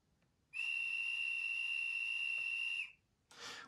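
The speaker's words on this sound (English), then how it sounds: "So this is the guard's whistle," Guard's whistle played by a LokSound sound chip in a Class 43 model train fitted with an extra bass speaker: one loud, sustained shrill blast of about two seconds, followed by a brief hiss.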